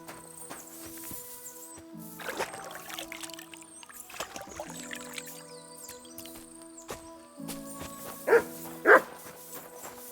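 A dog barking in the video game Kingdom Come Deliverance 2, with a few distant barks over layered game ambience and louder sharp barks near the end.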